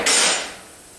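A dead blow hammer strikes a stuck sway bar bolt once, a single sharp close impact with a bright ringing tail that fades within a second.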